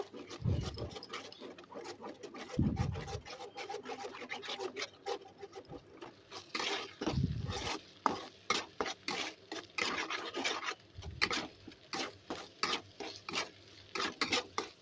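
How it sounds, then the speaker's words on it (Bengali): Eggs are fried and stirred into small crumbles in a pan for noodles. A utensil scrapes and taps the pan in uneven, repeated strokes, with a few dull knocks, and there is no talk. "এবার ভালোভাবে ডিমটাকে ঝুরো ঝুরো করে ভেজে নেব"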